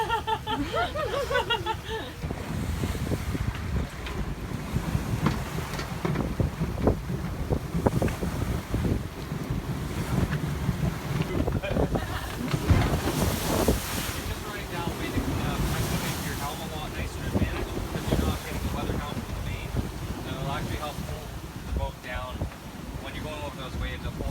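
A sailboat heeling through 30-knot wind off the British Virgin Islands, with strong wind buffeting and rushing water and waves loud and steady throughout, and a voice speaking faintly under the noise.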